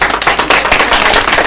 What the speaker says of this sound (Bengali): হাততালি ওর জন্য।